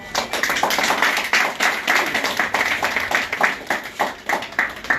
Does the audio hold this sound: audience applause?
yes